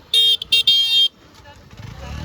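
A motorcycle riding on a road toward Harishchandragad fort: a few sharp horn beeps up front, then a low engine and road rumble building underneath.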